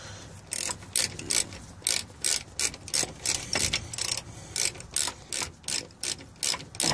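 A hand ratchet tightens rear differential cover bolts, giving bursts of rapid metallic clicking in a steady back-and-forth rhythm, about a dozen strokes, close and clear with no voices.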